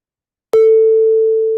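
Digital waveguide physical-model synthesis of a plucked string, with the pickup position changed: after a short silence comes a single sharp pluck, then a clear sustained tone that rings on, fading only slowly.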